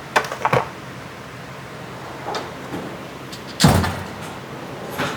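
A Snap-on toolbox drawer slides with a brief metallic scrape, followed by a sharp clunk as it stops, with lighter rattles and clicks before it.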